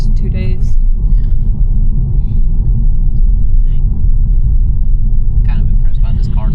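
A Kia Stinger with a newly installed exhaust rumbles steadily and loudly from inside the car while driving, a deep continuous drone with brief higher noises on top.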